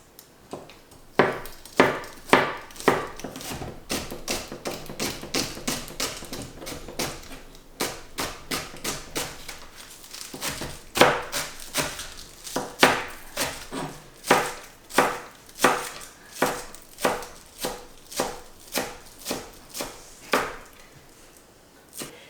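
About four green onions chopped with a knife on a cutting board, a long run of crisp, evenly spaced thuds in steady rhythm with brief pauses between bursts, close and clear, no speech.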